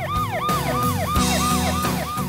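Siren of a 108 Samajwadi ambulance-service vehicle in Uttar Pradesh, a loud, fast yelping wail that sweeps up and down about every third of a second, repeating steadily with no voices.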